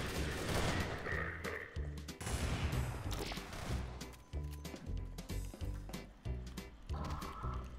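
Rapid gunfire rattles in the game Garry's Mod, with dense bursts of shots and clattering mechanisms running through the whole stretch under excited shouting.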